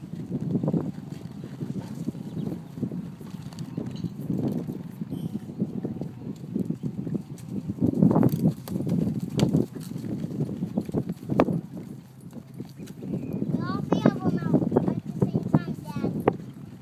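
Drifter, a horse ridden by Randon while working steers along a fence, walks with steady clip-clop hooves throughout, close and rhythmic, under wind noise and a voice talking over them.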